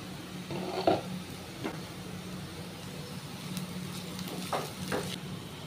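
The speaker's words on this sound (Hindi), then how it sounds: "गैस को हम मीडियम पे कर देंगे और प्याज को अब चलाएंगे" Onions with chilli stirred and fried in a pan over a medium gas flame, a soft continuous sizzle broken by a few scraping stirs of the spoon, no talking.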